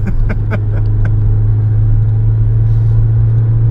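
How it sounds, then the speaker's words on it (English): A Toyota RunX RSI engine hums with a strong, steady low drone under acceleration, with a few clicks and knocks early on. "we can just enjoy the symphony that the Toyota RunX RSI makes"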